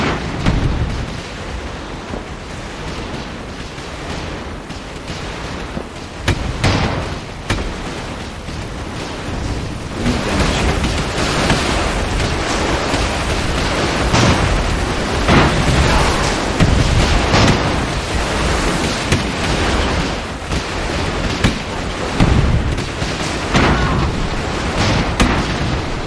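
Cannon fire and bomb blasts from the airship battle game Airships: Conquer the Skies, a dense, continuous barrage of booms and bursts packed close together, loud throughout.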